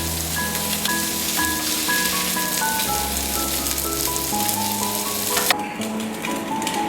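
Salisbury steak patties frying in oil in a pan, a steady close crackling sizzle with light clinks of utensils, continuous and fairly loud.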